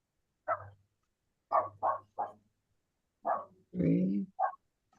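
A dog barks in a house during an online quilting meeting, a car having just driven by: a handful of sharp, close barks in a loose irregular series, the last one longer and more whining, with quiet gaps between and no talk.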